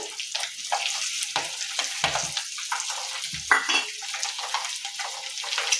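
Five or six cut garlic cloves sizzle in a hot pan for a spinach and egg curry, a steady close frying hiss with occasional stirring scrapes and clinks.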